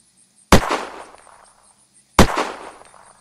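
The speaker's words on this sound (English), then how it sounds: "so it's a semi-automatic hunting rifle, I assume" A semi-automatic hunting rifle fitted with a Sabretooth magazine in the survival game Unturned fires two sharp, loud single shots about 1.7 seconds apart, each cracking sharply and then fading with a short echo in otherwise quiet surroundings.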